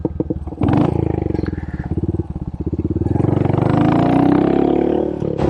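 A Honda Interceptor motorcycle approaches on a road, its engine pulsing and rising into a loud, close roar with shifting pitch.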